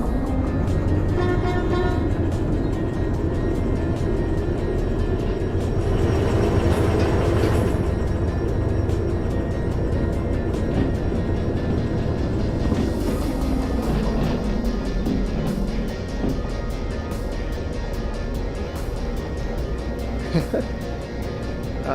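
A locomotive reverses in the Derail Valley train simulator, a loud continuous rumble of engine and rolling rail noise with a few metallic clanks.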